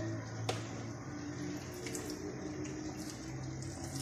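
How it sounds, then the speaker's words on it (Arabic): Water is poured into couscous dough in a home kitchen, a soft continuous trickle and splash heard close up over a few seconds, no voices. "دابا غنضيف ليه الماء بحال قبيله"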